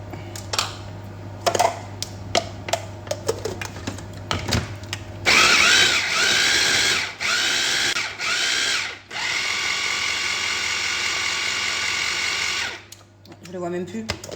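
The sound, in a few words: blender mixing salmon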